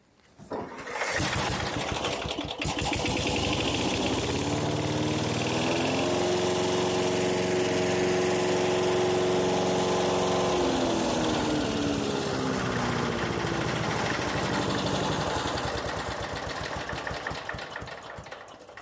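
A mulcher chipper engine, freshly repaired after a bent guide finger, roars loudly and steadily after starting, with a pitch that rises and then settles as it runs on without talk.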